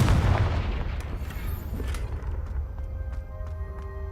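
A Confringo spell in the Hogwarts Legacy video game bursts with a loud, close explosive boom that decays into rumbling debris and a few faint clinks and creaks.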